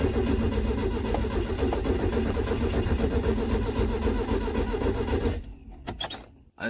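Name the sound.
Datsun 120Y engine cranking, trying to start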